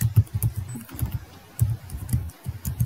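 Rapid key presses on a computer keyboard while entering C code in Turbo C, a steady run of close, crisp clicks with brief pauses between bursts and no talking.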